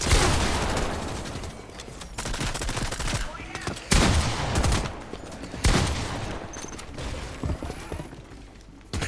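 Dense gunfire from every direction in a Fortnite match, loud and close, with rapid bursts and sharp single shots piling over one another, along with mechanical clatter and weapon handling noises.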